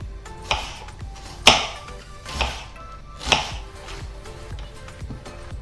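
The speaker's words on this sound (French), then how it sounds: "J'ai pelé l'oignon et puis maintenant je vais l'émincer." An onion being sliced with a knife on a cutting board in a home kitchen, giving a few scattered, close knife taps and chops over quiet background noise.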